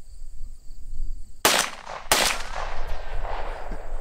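Two sharp gunshots fired at a 10-inch target at the end of a shooting range, the first at about a second and a half and the second half a second later, loud and close, with a ringing tail and steady background noise between.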